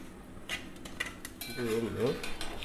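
A ladle stirs ada pieces through boiling jaggery in a pot, with quiet scraping and a few soft clinks of metal against the pot, fairly close and low in level.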